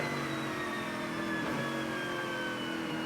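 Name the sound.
race car wheel spin on a wet track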